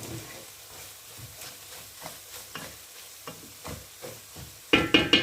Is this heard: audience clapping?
no